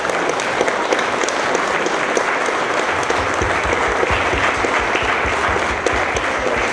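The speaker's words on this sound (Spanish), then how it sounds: "les pido un aplauso" Sustained audience applause fills a conference panel session on masculinities online and personal data, a loud, dense wash of clapping holding steady throughout with no pauses.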